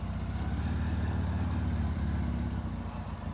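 A Ural Neo 500 motorcycle with sidecar circling at low speed, its engine a steady, continuous low rumble throughout with no talk.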